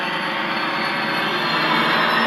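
A modified Märklin Spur 1 V218 model diesel locomotive running under full acceleration with its smoke unit working, giving a steady, dense whirring hum of motor and fan with no talk.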